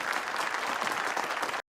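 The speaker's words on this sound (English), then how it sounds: "She's like, why are we clapping?" Clapping in a scene from the 2011 film The Help: a dense burst of applause from a group, steady and fairly loud for under two seconds, then cut off abruptly.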